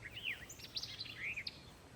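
Birds chirp and sing outdoors in short, high, bright calls and trills, quiet and somewhat distant, with no voices.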